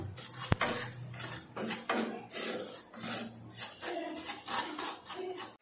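Dry semolina roasted and stirred in a pan with no ghee or butter, a rhythmic gritty scraping of a spoon across the metal, repeated strokes at close range with one sharp clink near the start.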